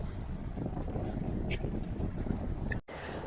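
Strong wind rushes steadily past a sailboat on Lake Ontario late in the day, a loud, constant broadband roar that briefly cuts out near the end.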